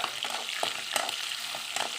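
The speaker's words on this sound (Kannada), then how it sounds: "ಈಗ ಹಸಿಮೆಣಸಿನ್ಕಾಯಿ ಹಾಕ್ತಿದ್ದೀನಿ. ನೀಟಾಗಿ ಫ್ರೈ ಆಗಬೇಕು" Green chillies fry in hot oil with a steady, close crackling sizzle, punctuated by occasional stirring scrapes.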